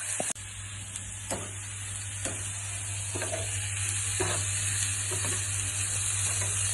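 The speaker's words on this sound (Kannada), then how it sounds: "ಎರಡು ಹಿಂಗೆ ತುಪ್ಪದಲ್ಲಿ ಫ್ರೈ ಮಾಡೋದ್ರಿಂದ" Sago pearls and carrot frying in ghee in a pan, a steady close sizzle and hiss with occasional scrapes of a stirring spoon, no voices.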